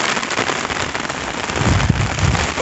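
Heavy rain pours steadily outside a house in Siwan, Bihar, a dense continuous hiss of drops on surfaces that swells slightly louder near the end, with no voices.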